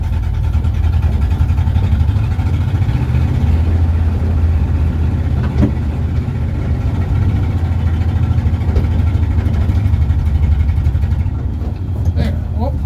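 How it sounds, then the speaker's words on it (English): A truck with no brakes backs up toward a tree, its engine droning steadily low and close under a person talking the whole way. "Alright, reverse. Now we're going to try to back up."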